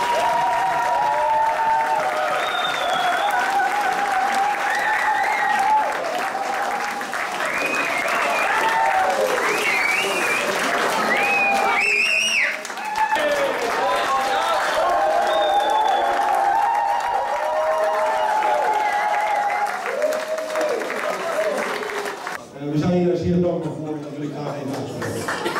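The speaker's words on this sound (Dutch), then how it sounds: "Dus ik wil een luid applaus." Loud, sustained applause from an audience at a Dutch football club event, continuous dense clapping with some cheering and voices mixed in, thinning briefly near the end.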